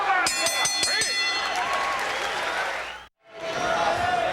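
Kickboxing fight crowd roars and applauds after a flurry of punches near the end of round eight, a dense sustained wash of cheering that cuts out briefly and then resumes.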